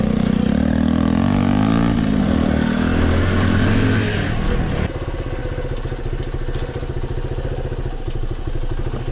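A Zongshen motorcycle engine fitted with a new carburetor runs loud and close, a rough throbbing idle with a rise in revs early on, then settling into a steady uneven rumble with no talk.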